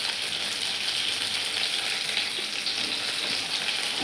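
Spices sizzle in hot oil for a raw mango curry, a close, steady, bright hiss of frying that continues without a break and has no talk over it.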